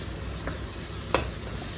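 Roasted, ground masala for chicken karahi stirred and fried in a pan, a low steady sizzle broken by two brief scraping stir strokes, the second sharper and louder, with no voices.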